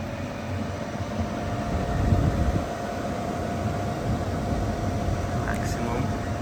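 An EBERG TEXO 3.5 kW portable air conditioner running in cooling mode gives off a steady airy rush with a faint tonal hum, continuous and close, while a person speaks over it.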